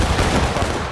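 Musket volley gunfire in the Civil War battle game War of Rights, a dense one-second burst of overlapping shots that sounds loud and close.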